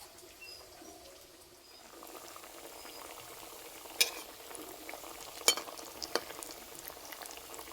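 Cauliflower chops frying in hot oil, a steady soft sizzle and bubble that swells slightly after the first couple of seconds, with a few sharp clinks and taps from a utensil near the pan.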